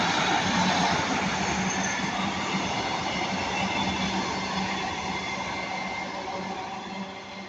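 A Class 150 diesel train passes at Ardwick with a loud, steady rolling rumble and rail noise that fades slightly toward the end.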